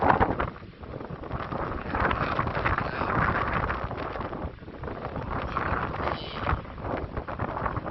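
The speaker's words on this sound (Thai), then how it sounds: "วันนี้ลมแรงครับ" Strong wind buffets the microphone on a fishing outing, a constant loud, rough rumbling roar with gusty surges and no clear voices.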